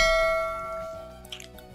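A notification bell chime rings once with a bright metallic ding that fades slowly, followed by a few faint clicks near the end.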